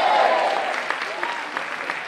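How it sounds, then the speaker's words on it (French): An audience in Nouméa applauds a music school about to play a song, a steady wash of clapping for about two seconds, fairly loud and even. "vous pouvez applaudir bien fort l'école facile à jouer"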